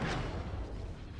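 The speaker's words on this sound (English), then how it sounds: "Ion cannon firing." Ion cannon fire in the space strategy game Thrawn's Revenge, a dense continuous rumbling barrage with a sharp burst at the start, loud and sustained throughout.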